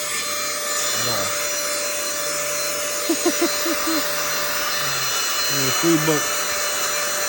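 A cheap Temu car vacuum cleaner runs with a thin, steady motor whine and little suction, with faint scraping and brushing noises under close, casual talk.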